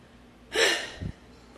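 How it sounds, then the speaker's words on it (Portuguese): A forceful huffing exhalation during a breathing exercise for working through fear: one loud breathy burst of about half a second, then a short low puff, heard alone with no talk. "Continua bufando"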